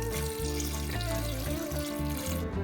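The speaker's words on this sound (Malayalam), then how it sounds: "ഇത് വേവാൻ വേണ്ടിയുള്ള വെള്ളം ഒഴിച്ചു കൊടുക്കാം." Water pours into a pot of Chinese potatoes (koorka) set up for pressure-cooking, a steady close splashing fill running unbroken for a couple of seconds with no talking.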